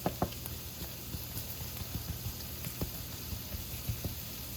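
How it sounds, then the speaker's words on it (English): Onions and garlic sautéing in a pan for homemade Alfredo sauce give a steady, close sizzle with soft crackling pops scattered throughout, no voices over it. "my onions and my garlic are both sauteing"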